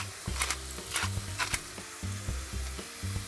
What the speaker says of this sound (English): So we're just gonna start sauteing that in the olive oil.